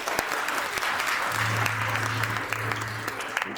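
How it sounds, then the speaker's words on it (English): A rehearsal dinner crowd gives a round of applause for the restaurant staff. The steady, dense clapping lasts throughout at moderate volume, with a faint low hum underneath. "Please give them a round of applause."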